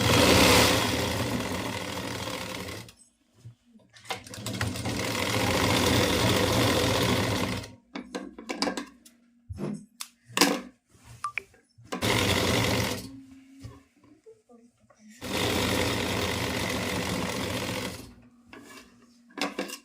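Sewing machine running in sustained bursts while stitching the folded seam of a pleated nighty, long and short runs of even mechanical whirring broken by quiet gaps and small clicks of handling.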